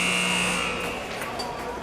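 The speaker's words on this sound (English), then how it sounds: "As the buzzer goes" An end-of-period buzzer sounds at a U15 AAA ice hockey game, a loud sustained electronic tone holding steady for about a second before cutting off, with arena crowd noise and a commentator's voice continuing underneath.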